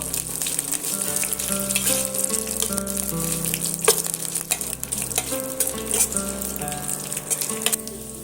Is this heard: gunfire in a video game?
no